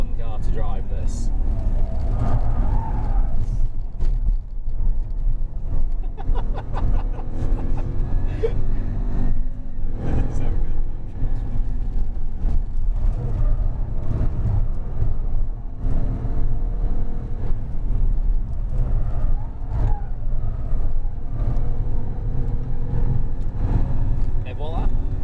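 A Jaguar XJR 575 limousine lapping the Nürburgring as a ring taxi. The engine drones and rumbles steadily throughout, rising and falling with the laps, while people talk over it almost the whole time.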